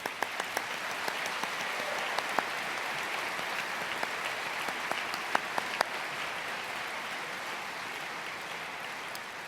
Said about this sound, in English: join me in thanking them with another huge round of applause